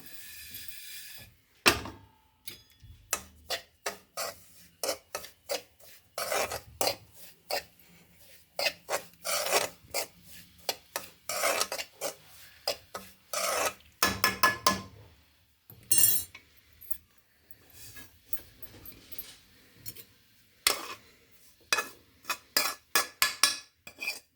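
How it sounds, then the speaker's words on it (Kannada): Roasted semolina (rava) scraped and poured from a pan onto a plate, heard as a long series of short dry rasping scrapes and spoon taps on metal, close and fairly loud, with no voices. "ಸ್ವಲ್ಪ ಹುರಿದಿದ್ದು ರವೆನ ಒಂದು ಪ್ಲೇಟ್ಗೆ ಹಾಕ್ಕೊಳ್ಳೋಣ."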